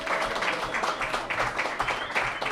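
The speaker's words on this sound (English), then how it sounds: "Give yourselves and Tony, in lieu of him being here, a round of applause." Audience applause at a tribute evening for Tony Allen, a dense, steady wash of clapping from a crowd filling the whole stretch at an even level.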